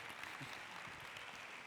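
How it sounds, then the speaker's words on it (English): Faint applause from a small audience at a design workshop, distant and steady, with soft scattered claps blending into a continuous hiss. "Please give me a round of applause"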